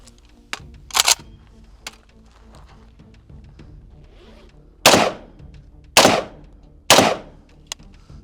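A 5.45 rifle with a 12.5-inch barrel, built by Jim Fuller of Fuller Phoenix, fires at a bank truck: three loud, cracking shots about a second apart, after a few fainter clicks and knocks.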